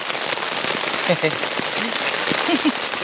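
Steady rain hiss at a lakeside campsite fills the background, dense and continuous, with people talking quietly over it.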